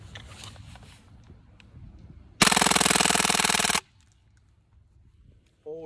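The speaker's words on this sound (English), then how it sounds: "Full auto, suppressed, 8K. Mag dump." A suppressed Crosman AK1 BB gun fires full-auto, emptying its magazine in one continuous rattling burst of just over a second. Quiet handling noise comes before it and a brief faint sound follows.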